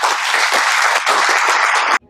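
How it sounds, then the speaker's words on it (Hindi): Audience applauding in thanks, dense loud clapping from a crowd that rolls continuously for about two seconds before stopping abruptly. "धन्यवाद करके ताली बजाओ।"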